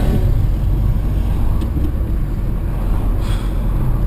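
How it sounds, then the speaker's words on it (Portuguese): A VW Golf engine running at a high idle, with a steady, loud, unbroken low rumble close by and no rise or fall in pitch. "Marcha lenta fica alta e demora pra baixar."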